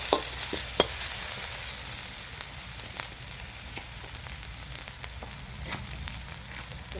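Garlic and chili stir-frying in oil make a continuous soft sizzle, with scattered light clicks and scrapes of a spatula on the pan and no voices.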